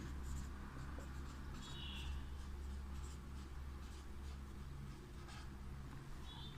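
A pen or marker writing a carbon chain during a chemistry lecture, heard as faint, brief scratchy strokes over a steady low hum.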